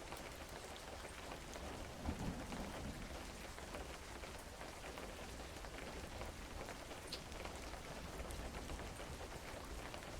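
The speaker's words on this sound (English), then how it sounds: "That rain sounds so nice." Steady rain falling in a video game, a dense even patter that runs without pause and stays soft and fairly distant throughout.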